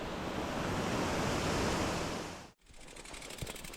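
A waterfall near Watch Water Reservoir in Scotland gives off a steady, dense rushing roar. After about two and a half seconds it cuts abruptly to quieter, gusty outdoor wind noise, with no talking.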